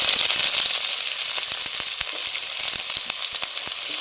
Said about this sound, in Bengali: ওই তেলে এবার আমি পেঁয়াজ আর টমেটোটা ভেজে নেব।